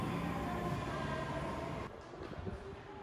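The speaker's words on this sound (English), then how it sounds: "There it is, the new Chuo Line 400 series train." An Osaka Metro Chuo Line 400 series train rumbles through a station in a steady loud roar, which drops suddenly partway through and leaves softer rattling and clunks.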